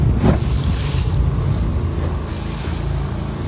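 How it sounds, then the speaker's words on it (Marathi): Sea waves around a fishing boat at dawn on a rough morning, heard as a loud, continuous wash of water and wind rumble with no voices. "सकाळ सकाळ लाटा भरपूर येतात आज"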